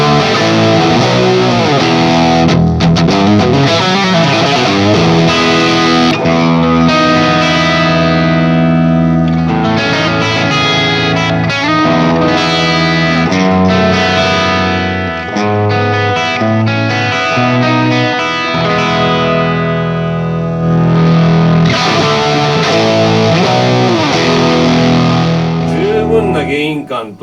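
Electric guitar with heavy distortion played through a TONEX Plug on the Marshall Mars 800 Lead preset, loud and continuous with sustained chords and lead notes, saturated gain and some echo over the whole stretch.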